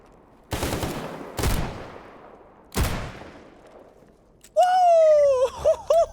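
Video game gunfire as three sharp, loud shots a second or so apart, followed by a whistling, tonal effect near the end.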